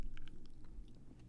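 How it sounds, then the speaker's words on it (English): Close-miked chewing of a cannabis edible, wet and squishy, with steady mouth clicks and smacks right against the microphone and no talk. "I always hate the chewing sound in a microphone, but I'm doing it right now because I don't care."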